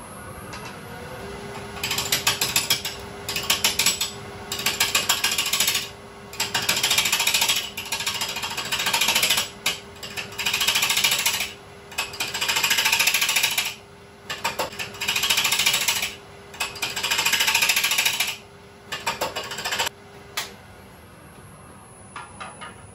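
A bowl face is flattened on a wood lathe with a gouge making a planing cut: repeated bursts of rough cutting noise over a steady motor hum, each pass lasting about a second or two with brief pauses between, close and fairly loud.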